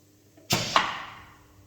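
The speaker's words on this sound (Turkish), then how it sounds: "Kapı açıldı." A pneumatic cylinder opens a door on a training model with a sudden loud burst of air hiss, a second sharp knock just after, then a long fading exhaust.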